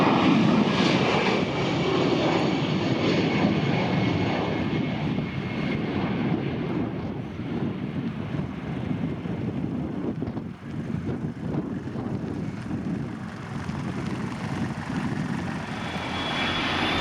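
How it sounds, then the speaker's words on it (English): An EasyJet Airbus A320 jet airliner taking off, its engines giving a loud, continuous broadband roar that holds steady for the whole stretch, with some wind buffeting on the microphone. "Here comes the EasyJet Airbus A320, a champion of affordable travel, ready to take to the skies."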